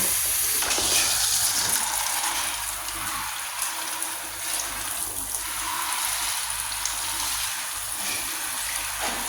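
Water runs steadily into a bathtub for rinsing during cleaning, a continuous broad gushing hiss close by with a slight shift in flow early on.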